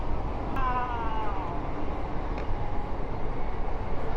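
A local train on the Bardhaman–Howrah line rushes past at speed, a loud, dense, continuous rumble and rattle of wagons filling the whole stretch with little variation, close by.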